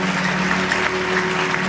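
A church congregation applauds steadily with dense, continuous clapping that fills the room at an even loudness throughout.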